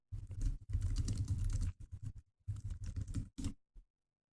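Code is typed on a computer keyboard in close, quiet surroundings, with rapid clattering keystrokes in two bursts separated by a short pause, ending in a few isolated taps.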